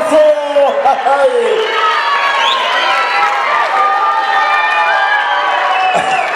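A crowd applauds and cheers at a jaripeo, with loud mixed shouts, whoops and clapping in a dense, continuous roar while voices call out over it.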